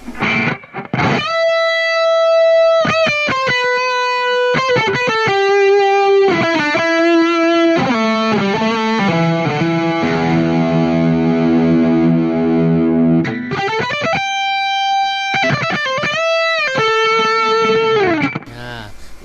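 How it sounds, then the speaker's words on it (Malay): Electric guitar played through distortion on the bridge pickup, loud and close, with sustained heavily overdriven notes, short riffs and ringing held chords, alone without talk. "Kita dengar distortion untuk bridge pickup."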